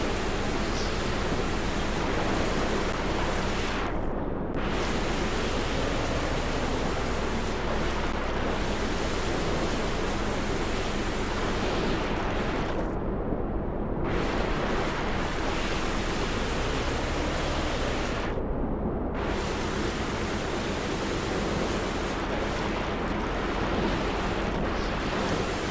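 A steady, loud wash of rushing water and surging waves as a ship floods and sinks in Stormworks, continuous for about half a minute with a few brief dips, and no voices.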